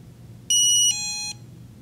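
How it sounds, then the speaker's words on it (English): An Opticon OPN2002 barcode scanner gives a short electronic beep, a bright single tone that shifts pitch partway through, clear over faint background hum. "press the small button for 5 seconds until you hear a beep"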